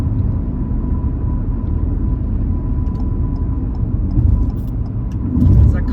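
Steady, loud road rumble of a car driving in traffic on Highway 59 between Lufkin and Nacogdoches, Texas, with continuous engine and tire noise that swells slightly near the end.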